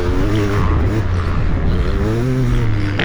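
A Kawasaki KX500 500cc two-stroke dirt bike being ridden, its engine loud and close with a rising and falling rasp as the throttle opens and eases.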